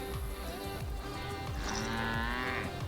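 Cows moo in the video game Guild Wars, a few low, drawn-out calls over a busy game ambience, moderately loud and close.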